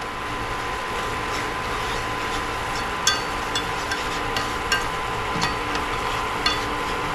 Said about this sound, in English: you're going to want to brown your flour a little bit